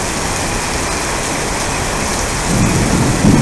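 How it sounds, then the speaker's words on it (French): A heavy summer thunderstorm near Aurillac, with dense, loud rain hissing steadily and a deep rumble of thunder building near the end. "C'est assez fou comme orage."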